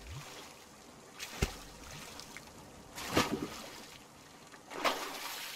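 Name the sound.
raft splashing down off waves in The Forest video game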